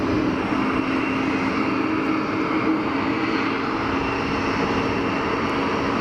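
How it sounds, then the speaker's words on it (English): An Algerian Boeing airliner on its takeoff roll at Geneva Airport gives a loud, steady jet engine roar with a broad, even rush, heard from nearby and held throughout without any talk. "Algerian Boeing is on the roll, heading out to Algiers."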